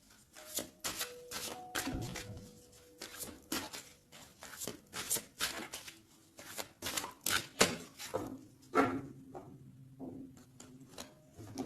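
A deck of tarot cards is shuffled and cut by hand in a long series of rapid, close, soft slaps and riffles, fairly quiet, with brief faint tonal chimes in the background.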